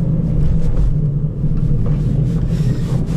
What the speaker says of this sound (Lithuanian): Kataliko nėra, kiauras duslintuvas.